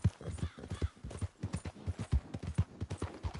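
A horse gallops in Red Dead Redemption 2, its hooves pounding in a fast steady clip-clop rhythm, close and continuous.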